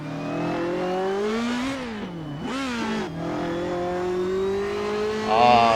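An engine-swapped FRS/BRZ/86 revs hard on a track, rising and falling pitch with a prominent high whine riding over the exhaust, close and loud, one sharp dip and recovery mid-way.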